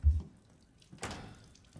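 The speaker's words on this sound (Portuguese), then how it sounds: "Essa torneira aqui, doido." A water tap in the Resident Evil Village video game gives a brief faint burst of running water after a low thud, with soft drips fading away; no talking.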